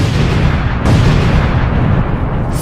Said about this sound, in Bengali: আমি অনেকগুলো স্টিকি বম লাগিয়ে দিয়েছি এবার এগুলো ব্লাস্ট করতে হবে